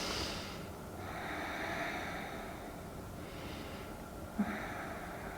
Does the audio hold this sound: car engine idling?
no